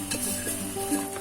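Onions sautéing in oil for Kerala-style gooseberry (nellikka) pickle, a close steady sizzle with a few soft stirring and pan scrapes, no talking.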